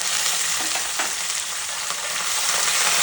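Chopped green chillies and curry leaves fry in hot oil in a pan that has just held fried peanuts. A loud, dense, continuous hiss and crackle carries on throughout, close up and with no talk.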